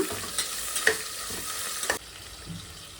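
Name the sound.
green chillies sauteing in a pan for rice bath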